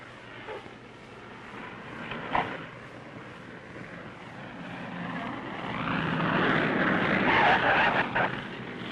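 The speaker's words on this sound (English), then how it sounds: "the planes start streaming in from the lower 48" Aircraft arriving at Anchorage after an earthquake, airplane engines droning from a distance and swelling louder toward the end under a steady rumble.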